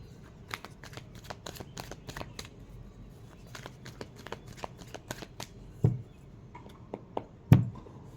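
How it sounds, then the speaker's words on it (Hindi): Tarot cards are shuffled and flipped close up, a quick run of crisp riffling clicks and soft slaps with a couple of louder taps near the end, quiet and without speech. "आज क्या हो रहा है पता नहीं, कार्ड्स बार बार फ्लिप हो रहे हैं।"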